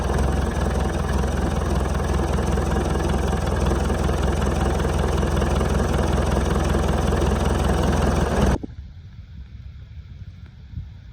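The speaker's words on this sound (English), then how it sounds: "I have started the engine. It seems to be running okay at the moment." A Land Rover 200Tdi Defender diesel engine idles steadily and loudly up close for about eight seconds, then cuts off abruptly, leaving faint background noise.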